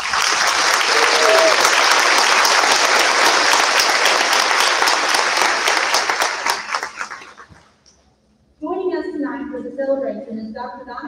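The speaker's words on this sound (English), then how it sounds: "Let's give them a round of applause." A crowd at a 2021 high school graduation ceremony gives the graduating class loud, sustained applause that fades out near the end, then a voice starts speaking over a quiet room.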